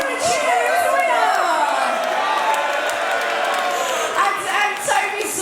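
A chessboxing crowd cheers a heavyweight bout's winner with loud whoops, shouts and clapping, a lively close roar that stays dense throughout with voices mixed in.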